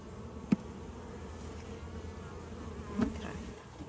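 Honey bees buzz steadily near a hive, a soft continuous drone with a couple of brief louder passes close by, no talking.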